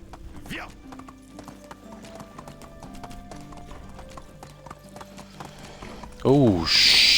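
Horse hooves clip-clop in a steady rhythm in the medieval video game Medieval Dynasty, with game music in the background, a person talking under it, and a horse neighing near the end.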